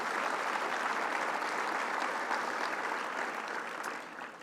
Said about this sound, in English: you really deserve a great round of applause